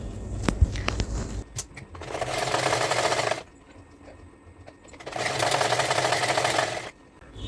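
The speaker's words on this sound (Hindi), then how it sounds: "एक बार तो मैं इसको सीधी साइड से स्टिच करूँगी" A domestic sewing machine runs in two long bursts, stitching a straight seam along the right side of fabric. The motor whirs loudly and steadily, broken by a short pause and preceded by some handling clicks, with no talk.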